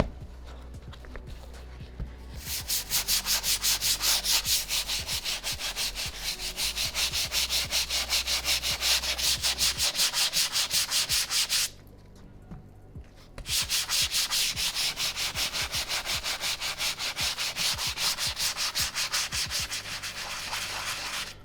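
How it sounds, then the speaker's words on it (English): Brush scrubbing a sneaker midsole with a rapid back-and-forth rasping rhythm, close and steady, pausing once for about a second before resuming. "So I'm not gonna scrub too hard, but I am gonna give it a decent scrub."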